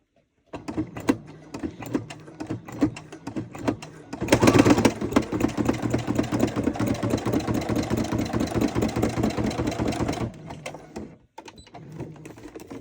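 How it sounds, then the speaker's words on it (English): A sewing machine runs in a long, close, steady mechanical whir, stitching across a pocket on a fabric project, preceded by a few short stop-start bursts and ending with brief quieter clicks. "I'm going to start at the top of the pocket and go ahead and sew this across."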